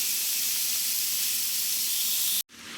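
Bacon frying on medium heat in a pot gives a steady, close sizzle and hiss of spattering grease that holds constant for over two seconds before cutting off abruptly, then returning more faintly.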